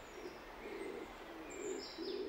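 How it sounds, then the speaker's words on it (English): Bolle's pigeon in a cloudy Canary Islands laurel rainforest gives soft low coos in a slow repeating series, fairly faint, with a few thin high bird chirps in the background. "Bolle's pigeon is no ordinary pigeon."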